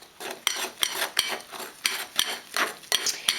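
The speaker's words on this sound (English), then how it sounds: "Now I'm going to just stir this up some." A spoon stirs sweet potato muffin batter with vanilla in a mixing bowl, giving close, steady scraping and rubbing strokes with a sharp tap against the bowl about every half second.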